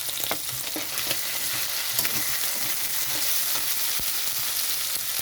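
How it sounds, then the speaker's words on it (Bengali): Ginger-tomato paste sizzling as it hits frying prawns and potatoes in a pan, a dense, steady hiss of hot oil with occasional stirring clicks, close and continuous, no voices. "এখানে দিয়ে দিচ্ছি আদা টমেটো বাটা"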